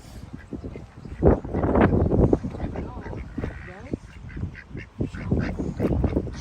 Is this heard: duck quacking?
yes